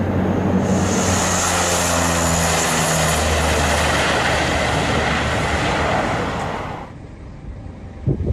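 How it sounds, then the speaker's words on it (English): A V-22 Osprey tiltrotor aircraft comes in to land with a loud, steady rotor and engine roar that holds for several seconds, then dies away fast, with a few sharp knocks at the end. "A V-22 Osprey made a dramatic entrance."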